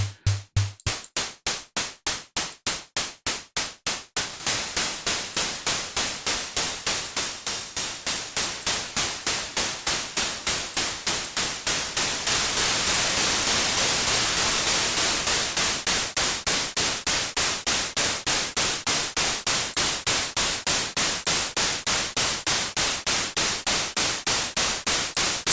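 Synthesized noise from the Axon 3 neural net drum synth on iPad plays as a rapid, steady stream of hissing static hits, the tone shifting brighter partway through, with no other sounds.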